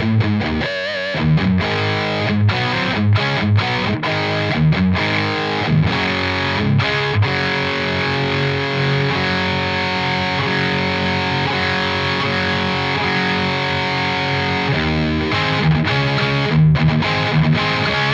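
Distorted electric guitar through a Marshall DSL pedal with a dull, muffled, blanketed tone, strummed chords and riffs played steadily and loud for the whole stretch with no voices.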